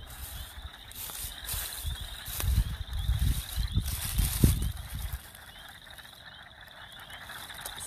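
Frogs call near water on a spring evening in a rattling, ratchet-like chorus that swells for a few seconds and then fades, with a steady high trill running through the background.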